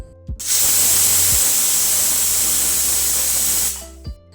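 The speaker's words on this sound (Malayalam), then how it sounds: "ഒരു 12 വിസിൽ അടിക്കുന്നത് വരെ വേവിക്കണം" A pressure cooker cooking botti (goat tripe) lets out a single loud, sustained hissing whistle of steam lasting about three seconds, starting and stopping abruptly, close by with no voices.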